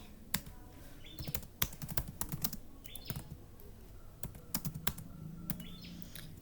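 Commands are typed on a computer keyboard in irregular bursts of crisp, close key clicks with short pauses between them.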